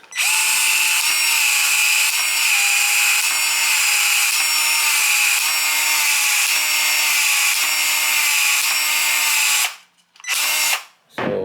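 A power expansion tool opens the end of a PEX-A Uponor pipe for a joint in a 1934 farmhouse bathroom, buzzing loud and steady with regular pulses for about ten seconds, then two short bursts after it stops.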